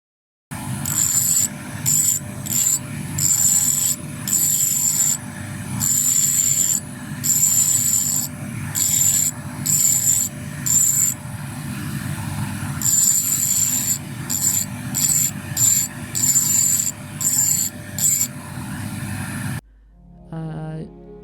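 A diamond burr engraving glass by hand, a high rotary whine broken into short repeated bursts as the tool touches and lifts, over a steady motor hum, close and continuous.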